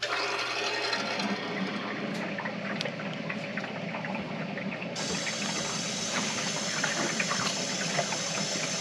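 Water rushing through household plumbing once the supply to a water heater is opened, a steady broadband hiss and gurgle that holds constant throughout, brightening slightly midway.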